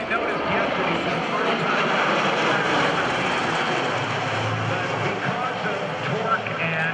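An MV-22 Osprey tiltrotor aircraft flies at a Blue Angels homecoming airshow, giving a loud, continuous engine and prop-rotor roar with no breaks.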